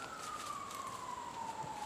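Emergency vehicle sirens wail at a distance across a golf course during a tournament round, one long steady tone gliding slowly downward, faint and continuous with no talk over it.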